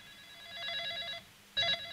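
A phone rings during a test call over an Osmocom cellular network, two electronic ring bursts separated by a short gap, fairly faint in a quiet room with no talk.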